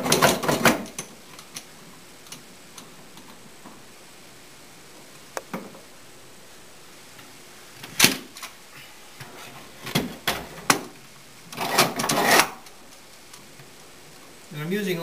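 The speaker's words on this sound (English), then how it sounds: "I'm just going to lightly clamp this at first." Clamps being tightened onto a curved laminate for a veneered executive desk: scattered clicks and ratcheting snaps in short bursts, some closely spaced, with quiet stretches between.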